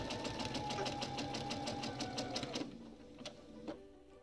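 A sewing machine stitching Dresden Plate fabric wedges together runs in a steady, rapid rhythmic whir for over two seconds, then stops, leaving a few faint clicks of handling.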